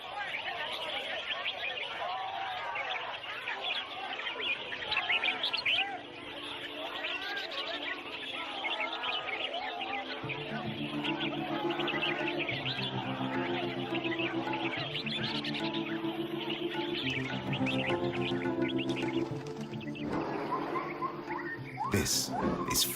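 Exotic caged birds chirping at a bird singing competition at a Thai market, their faint tweets mixed into a steady murmur of crowd babble, with a low rhythmic hum joining partway through.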